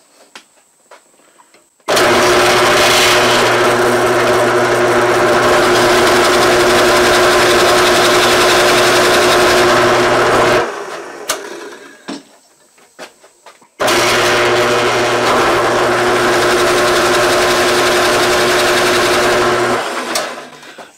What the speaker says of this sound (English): I'm running the drill press at about 300 RPM through this operation.